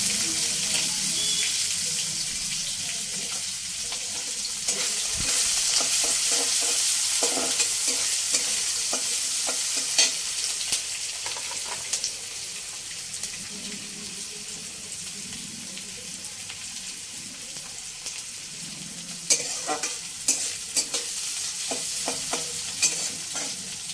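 Finely chopped onion fries in hot oil with browned cumin seeds for restaurant-style Chinese noodles; a continuous hiss and sizzle sounds close by, with occasional clinks and scraping from stirring.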